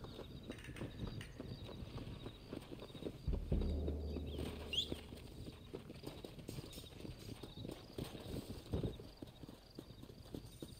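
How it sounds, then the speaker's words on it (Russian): Horse hooves clip-clop in a quiet, steady walking rhythm in the Red Dead Redemption remaster video game, with a soft ambient background and a brief low thud partway through. "Looks like Carlos left us some horses."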